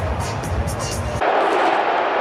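Divided baseball crowd at a Mets versus Phillies Major League game in London, a dense roar of voices and cheers that swells suddenly partway through, loud and continuous.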